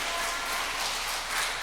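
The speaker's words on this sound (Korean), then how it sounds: "잠깐만 일어나시면 우리 박수로 좀 환영하시겠습니다" A church congregation applauding during a Sunday worship service to welcome a member, a steady, soft wash of clapping that holds evenly without breaks.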